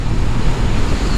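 A 2022 Honda CB500F with a parallel-twin engine on the move, heard as a loud, steady mix of engine drone, road roar and wind rush in a very short burst.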